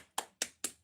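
Three sharp hand claps in even rhythm, close and fairly quiet, each one a crisp snap with a short decay and silence between.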